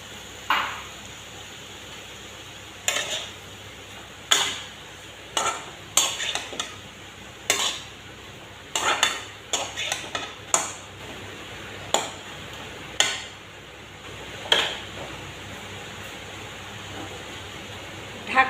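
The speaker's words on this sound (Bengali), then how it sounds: "এবার দেব মসুর ডাল।" Red lentils go into a cooking pot for a curry, followed by a spoon stirring and knocking against the metal pot: a scattered series of bright clinks and scrapes, some close together, over a faint steady background hiss.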